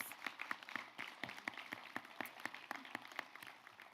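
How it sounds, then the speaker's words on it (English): A small audience at a physical therapy ceremony applauds, steady scattered hand claps heard faintly and at a distance, with no talking over them. "definitely deserves a round of applause"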